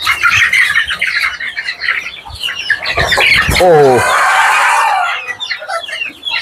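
Desi chickens, including young birds about 45 days old, squawk and cluck loudly in a farm shed, and one drawn-out crowing call rises mid-way over the dense, close-up flock chatter, with a brief human voice.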